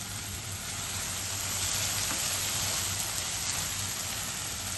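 Red pasta sauce mixture sautéing in oil over a low flame, a steady, close, even sizzle and hiss that runs unbroken throughout with no talk.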